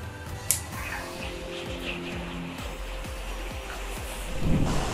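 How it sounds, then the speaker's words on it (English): Steady heavy rain hisses outside with a dull rumble underneath and a few sharper taps and knocks. "it is raining seriously outside."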